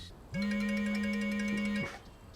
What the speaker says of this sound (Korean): 타이밍도 얄궂게 울려 퍼진 전화 한 통이 분위기를 얼어붙게 만듭니다.